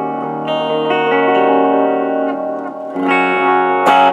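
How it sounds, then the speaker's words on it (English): An electric guitar runs through a Boss DD20 delay pedal into a Crate Vintage Club 20 amp, sustained chords ringing with repeating echoes, then a fresh strum near the end, with no talking. "so now I'm gonna do a little delay. Okay, here's a delay."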